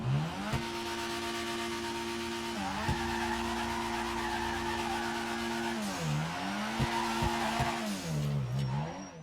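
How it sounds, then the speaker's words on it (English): A car engine in GTA 5 revs up toward redline and drops as it shifts, repeating in a steady cycle while drifting with tire squeal, loud and continuous throughout. "Once you hear the revs climb up to redline and drop while the car is still building speed"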